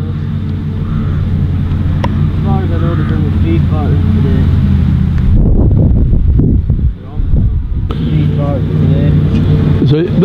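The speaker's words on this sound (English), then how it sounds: "So that another tractor" A McCormick tractor engine drones past on a farm, a low steady rumble with wind buffeting the microphone, briefly dipping before the engine note returns.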